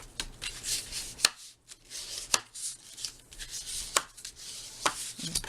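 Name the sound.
foam folder pressing down paper on storybook cover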